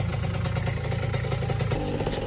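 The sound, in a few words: Honda NS-1 75cc two-stroke motorcycle riding on road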